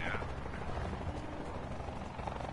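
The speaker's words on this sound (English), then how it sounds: "I hear a chopper." Helicopter in Call of Duty Blackout whirs at a distance, a brief steady rotor wash with a faint high whine fading early.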